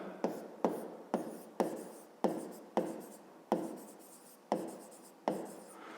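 Pen writing a math solution on paper for a fifth-grade exercise: a series of repeated scratchy strokes, eight or so quick bursts each fading off, close and fairly quiet with no talk.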